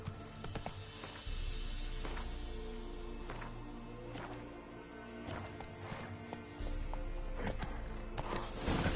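A horse gallops steadily in The Witcher 3, its hoofbeats driving and continuous with game music and ambience underneath.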